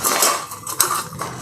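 Oil brushed onto a metal plate, heard as soft, close scraping and light clinks of metal against metal, with a few small knocks across a short stretch.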